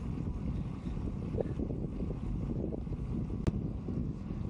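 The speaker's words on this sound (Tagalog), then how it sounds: "Grabe yung hangin." Strong, cold wind buffets the microphone during a weekend bike ride in Hudayriyat, Abu Dhabi, a constant low rumbling roar with gusty swells.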